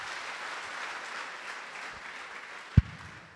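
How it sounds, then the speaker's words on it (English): A church congregation claps for Jesus during a service, a steady wash of applause that carries throughout, with one sharp, loud thump standing out near the end. "Shall we clap for Jesus?"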